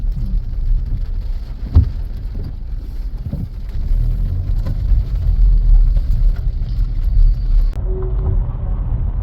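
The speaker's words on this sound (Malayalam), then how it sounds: "ഇല്ലാത്ത മഴയാണ്" Heavy rain pours at Aranmula temple, a dense, constant hiss with low wind rumble and a few thumps from nearby handling, close to the microphone and without speech.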